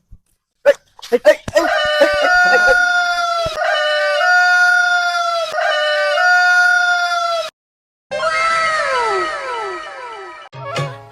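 A rooster crows loudly in several long, rising-and-falling calls, with short sharp sounds at the start and another burst of crowing near the end.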